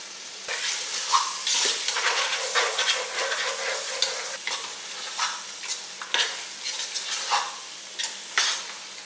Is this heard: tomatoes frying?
yes